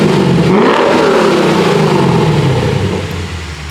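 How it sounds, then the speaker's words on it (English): A Toyota V8 engine revs hard and loud close by, its pitch sweeping upward and then falling back as the roar slowly fades toward the end. "Toyota does make a good sounding V8."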